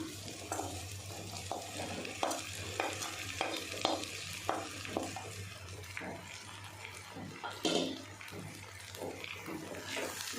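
Okra for a Tamil-style kuzhambu frying in a pan, soft sizzling punctuated by regular spatula stirs and scrapes, fairly quiet and close with a low steady hum beneath.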